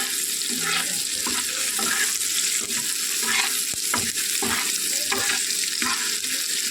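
Chopped tomato stirred and frying in a pan for homestyle Maggi noodles, with a steady sizzle and repeated scraping strokes of a spoon at a regular rhythm, close and continuous.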